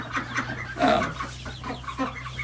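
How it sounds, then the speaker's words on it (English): Several ducks clucking and calling in a barn, a burst of louder squawking near the middle, over a steady low hum. "If you can hear from the ducks."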